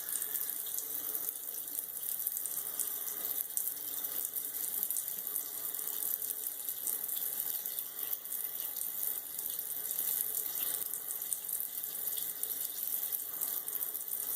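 A Gillette Ball Tech razor, modified, is rinsed under a running bathroom tap, a steady, soft, continuous stream of water hissing and splashing without pause.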